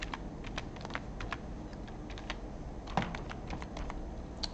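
Fingers tapping out a password on a computer keyboard, a quiet run of light, uneven clicks over a low room hum, with a brief pause midway before the keystrokes resume.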